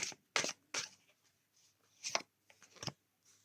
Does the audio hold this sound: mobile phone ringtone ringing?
no